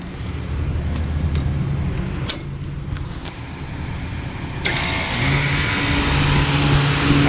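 Fan motors on a rooftop condenser unit run with a steady, loud whirring drone, and a second motor starts partway through, raising the hum and adding a broadband rush.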